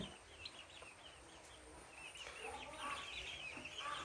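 Poultry on a turkey farm in Sylhet, flocks of white and black speckled turkeys, give scattered clucks and calls at middle distance over a steady outdoor background, growing busier toward the end.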